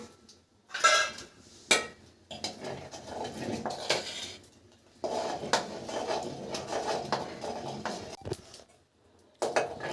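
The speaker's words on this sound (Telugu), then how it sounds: "మళ్ళీ ఇంకొంచెం చక్కెర వేసుకుని బాగా కలిపేస్తున్నాను" Sugar is stirred into payasam in a metal pot, giving a spoon clattering and scraping against the pot in irregular bursts with short pauses between strokes, fairly close, no talking.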